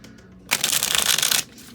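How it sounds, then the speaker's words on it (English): A deck of small tarot cards given one quick shuffle, a dense papery riffle lasting about a second, close and fairly loud, with no talk. "so I'm just gonna do a quick shuffle"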